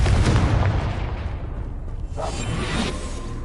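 A Confringo blasting spell goes off in a PS4 video game with a deep, rumbling explosive boom and a whooshing burst, then the blast rolls and fades.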